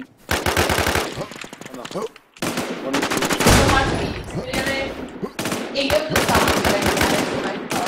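Rapid bursts of automatic gunfire in an online shooter video game, with several dense volleys separated by short gaps, loud and close, while players talk over the shooting.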